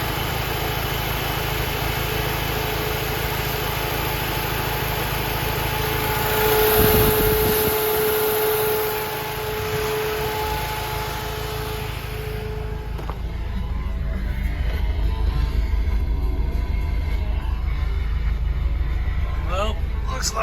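A car engine idling steadily with cooling fans running, a constant close whir and hum that rises slightly partway through.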